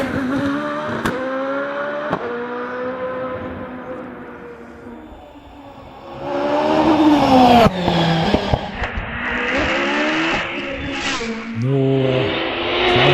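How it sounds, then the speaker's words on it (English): A hillclimb race car at a British championship event in Doune launches and accelerates uphill, its engine note rising through several gear changes, fading briefly, then returning loud and close with sharp pops and revs, with no talking. "this time the car gets away cleanly."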